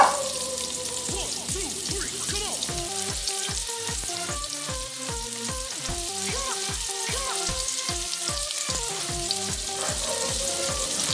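Medium white onion sautéing in a pan, sizzling steadily and loudly up close while a utensil scrapes and taps rhythmically against the pan as it is stirred.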